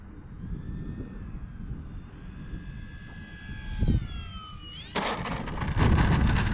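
An Arrows Trekker RC plane, flown near full throttle, whines with a steady electric motor tone that shifts pitch as it passes. A gusty wind rumble runs underneath, and a sudden louder burst comes near the end.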